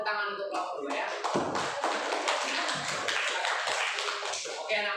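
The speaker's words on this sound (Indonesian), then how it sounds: "berikan tepuk tangan untuk kelompok 2 ya" A class claps for a student presentation group in a school classroom, a steady dense patter of many hands lasting throughout, fairly loud and close.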